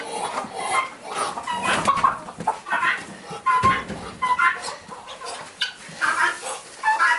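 Several chickens cluck nearby in short, irregular calls, one overlapping another, with soft rustling in the background.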